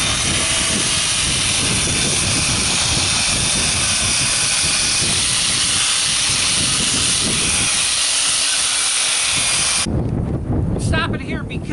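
Wall being sanded with a polisher fitted with 50 grit paper, a loud continuous hissing roar that runs steadily for about ten seconds and then cuts off, leaving quieter sounds at the end.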